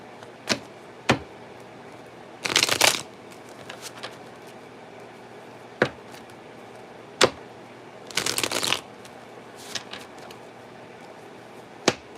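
A deck of tarot cards being shuffled in several separate bursts of riffling, with sharp single snaps and taps between them, close and fairly quiet, no voices.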